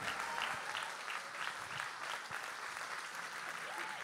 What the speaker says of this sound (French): Merci, on peut encore les applaudir.